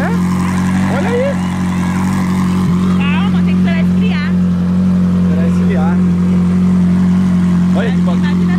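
A Ferrari 458 idles in a garage with a steady, deep droning hum, while several people chat loudly and excitedly over the engine.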